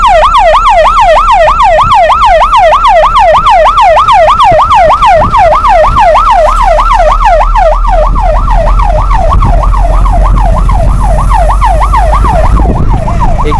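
An ambulance siren at the scene of a bus accident, wailing loud and close in a continuous rapid rising-and-falling cycle throughout, with faint background rumble and no talking.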